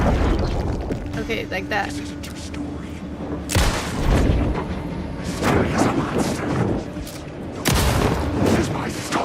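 Grenade blasts in the horror video game Alan Wake II, several heavy booms spaced a few seconds apart over a rumbling backdrop, with someone speaking briefly between them.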